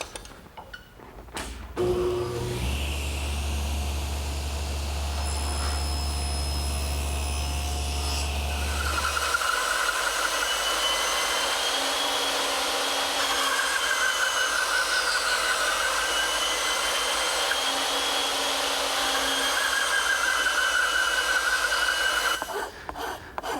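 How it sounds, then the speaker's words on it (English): A bandsaw cuts away waste wood around tenons, a steady continuous whine and rasp of blade through timber that shifts pitch partway through as the cut progresses, close and loud with no talking. "then remove the rest of the material with my bandsaw"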